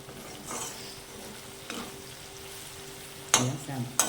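Potatoes and chillies fry in a pan for sabudana khichdi, a soft steady sizzle with a few louder stirring scrapes and clinks near the end.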